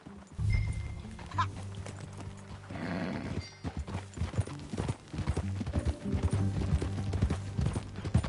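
Horse hooves clip-clopping in the video game Red Dead Redemption, a steady rhythmic trot mixed with game music, a whinny and brief voices talking.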